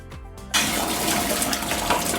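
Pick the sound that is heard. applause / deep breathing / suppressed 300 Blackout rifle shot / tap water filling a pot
tap water filling a pot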